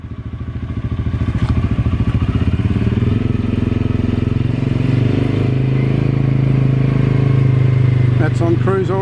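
A CF Moto quad bike engine drones steadily as it climbs a sloped track on cruise control, a close, throbbing motor hum that holds even, with a voice speaking briefly near the end.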